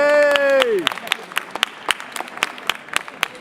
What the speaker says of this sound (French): Donc félicitations, on peut l'applaudir bien fort.